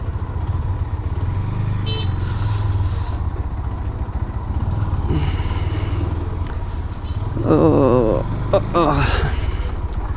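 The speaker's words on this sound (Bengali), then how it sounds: "যার কারণে বাইকটা বের করছি" A GPX Demon motorcycle rides along a road with steady low engine drone throughout, and a voice talks over it near the end.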